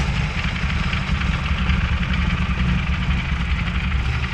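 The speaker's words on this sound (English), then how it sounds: "here is what an idling motorcycle sounds like" A motorcycle engine idles close by, a steady low rumbling throb with an even, unbroken tone throughout.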